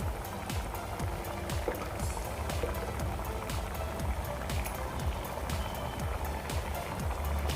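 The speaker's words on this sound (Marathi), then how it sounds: "आता या भाजीला उकळी आली मस्तपैकी की आपण गॅस बंद करणार आहोत" A pot of rustic chakwat (bathua greens) gargatti vegetable curry boiling over a gas flame, giving a constant low bubbling roar with a dense, even texture and no break for the whole stretch.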